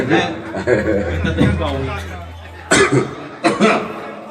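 Two sharp coughs near the end, following a stretch of people talking and chuckling.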